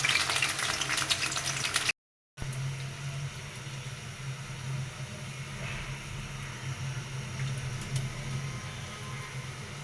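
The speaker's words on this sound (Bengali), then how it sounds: "রসুন পেঁয়াজ দিয়ে দিলাম তেলে।" Garlic and onion frying in hot oil for a lau shak (bottle gourd greens) dish, a steady soft sizzle running throughout with a brief cut near the start.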